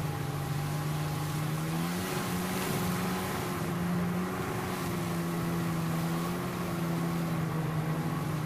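Jet ski on water with a steady droning engine whose pitch rises and falls, heard up close amid wind buffeting on the microphone.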